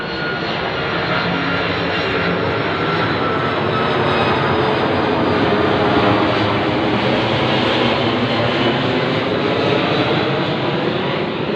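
Airplane flying low overhead, a loud, steady, broadband engine roar that swells slightly at its peak and fills the whole clip, no talk.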